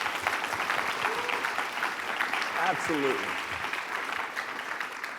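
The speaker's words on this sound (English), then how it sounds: "Please give all these judges a big round of applause for being here tonight." An audience at a business pitch competition event claps for the judges in steady, full applause throughout, with a brief spoken word from someone over the clapping.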